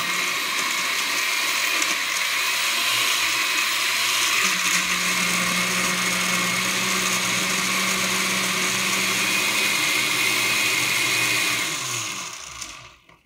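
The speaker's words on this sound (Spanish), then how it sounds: "Aquí voy a moler mis ingredientes." A blender grinds adobo ingredients for beef barbacoa, roaring loud and steady up close for about twelve seconds before spinning down and stopping.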